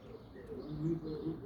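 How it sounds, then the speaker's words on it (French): Birds calling in a garden, a soft cooing like a pigeon or dove with a few faint chirps, steady and moderately distant against a quiet outdoor background. "Écoutez l'oiseau"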